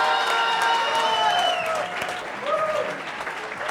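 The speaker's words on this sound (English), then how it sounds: "another applause." An audience at an award ceremony in a museum claps warmly in a brief, fairly loud burst of applause, while a voice whoops and a few people call out over it.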